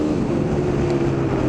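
A Kawasaki KDX250 two-stroke dirt bike lugs down a street with its choke still on, giving a loud, steady engine drone that barely changes pitch.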